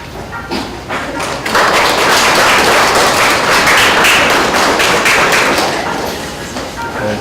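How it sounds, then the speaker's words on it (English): Crowd applause following opening remarks at a Thursday Night Lights event: loud, sustained clapping from many people builds after a brief start and holds steadily, fairly close. "Thank each of you for your applause."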